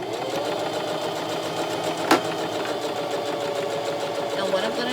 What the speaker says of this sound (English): You're going to go forward a few stitches, and then you're going to back stitch, and you're just going to keep on going.